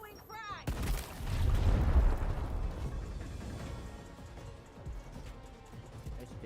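Frag grenade blast in the video game My Hero Ultra Rumble, a sudden heavy boom followed by a long rumbling roar that slowly fades, alongside talk.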